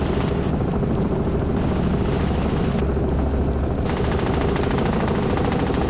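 A training helicopter near gross weight descends toward a landing at slow approach speed, its rotor and engine noise loud and continuous throughout, with a steady beating thrum and no talk.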